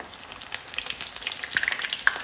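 Three vegetable cutlets fry in oil with a continuous crackling hiss, and sharper pops and clicks mark them being flipped over in the pan.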